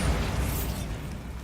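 Bombarda spell explosion in Hogwarts Legacy, a short loud burst with a bright crackling edge that quickly settles into a dull fading rumble.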